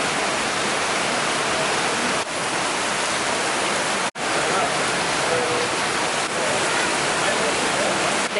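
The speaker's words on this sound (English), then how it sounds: "You wanna see how much it rains?" Heavy rain pouring down in a Borneo rainforest near Sepilok, Malaysia, a dense, loud, unbroken hiss that holds steady throughout, with one brief dropout partway through.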